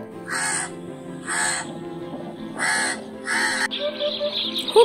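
A crow caws four times in a steady, evenly spaced rhythm, harsh and loud at close range, followed by a brief rougher call at the end.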